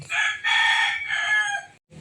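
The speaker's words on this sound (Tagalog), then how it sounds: "Hindi na tumigil ang hamal na manok" A rooster crows loudly nearby, one long drawn-out call rising and then trailing off, with a short pause and a faint start of another sound at the end.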